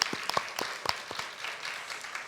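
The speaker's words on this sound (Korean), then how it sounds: "우리 감사하다고 박수하겠습니다" Congregation clapping during a Korean Sunday church service, a moderate crowd patter with a few sharper individual claps standing out near the start and fading into a steadier wash.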